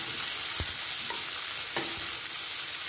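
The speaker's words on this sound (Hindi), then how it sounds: "प्याज को हमने कुछ सेकंड के लिए फ्राई कर लिया।" Finely chopped onion fries in hot oil with cumin, giving a dense, steady sizzle close by, broken by a few soft knocks of a stirring spoon against the pan, with no voices.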